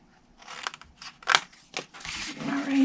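Scissors snipping through cardstock while a paper gift box is made, a series of crisp close cuts and crunches with short pauses between strokes.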